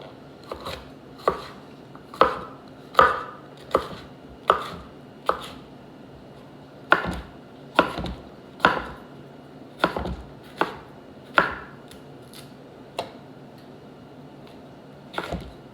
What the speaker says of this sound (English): Now back to the bigger knife. Gonna cut it long way, all right?